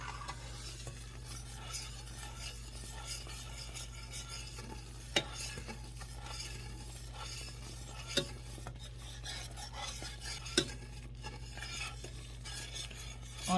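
Butter and sugar melting together in a pan on a stove at medium heat for Christmas crack candy, stirred with a quiet, steady rasping scrape over a low hum, with a few sharper clinks of the utensil.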